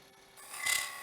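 A tool scrapes the bottom of a wood-turned piece on a lathe, a short rasping scrape that swells and grows brighter over about a second, close and alone.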